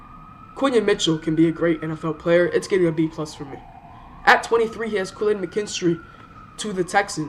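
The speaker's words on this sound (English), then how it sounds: "Sorry for the sirens" Emergency vehicle sirens pass outside, a steady wavering tone that sweeps down and back up beneath continuous close male speech.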